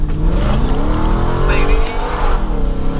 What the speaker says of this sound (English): we can hear that brilliant sound